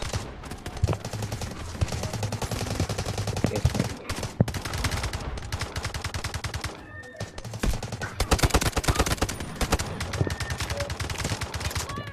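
Rapid bursts of automatic gunfire in the Delta Force video game, loud and dense, with short pauses between volleys and a steady music-like bed underneath.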